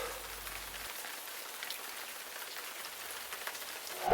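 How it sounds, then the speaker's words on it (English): Light drizzling rain falls outside in a steady, soft patter of fine drops, even throughout with no voices. "it's a little bit drizzly, a bit rainy."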